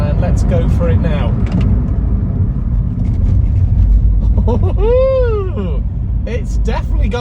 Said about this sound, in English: let's put the foot down a little bit here and do a bit of a braking test